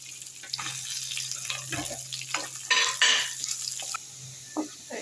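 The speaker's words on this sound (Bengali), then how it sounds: "এখন আমি রসুনগুলো ভেজে নেব।" Garlic frying in a pan after dried fish, a steady close sizzle with scattered spatula scrapes and stirring knocks, one louder burst of crackling midway, no voices.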